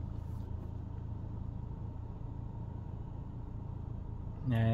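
Steady low engine hum and road rumble heard from inside a Seat Leon driving through town, fairly quiet and continuous, ending with a brief louder tonal chime or indicator sound.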